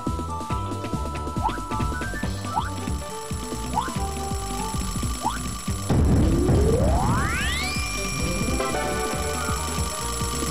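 An alarm clock rings inside the video game Nights into Dreams, its repeated chirping tones mixed into busy game music, followed by a loud rising electronic sweep that swells and holds near the end.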